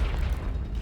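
The Confringo fire spell explodes in the Hogwarts Legacy video game, a brief deep booming blast rumbling low and loud through the short moment.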